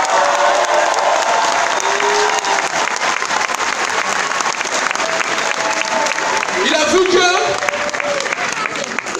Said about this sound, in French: Et applaudissez le Parlement pour cela.